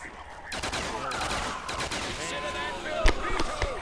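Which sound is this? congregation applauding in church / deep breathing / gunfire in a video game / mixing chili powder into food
gunfire in a video game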